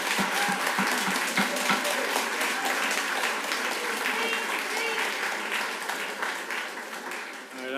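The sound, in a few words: applause at a council meeting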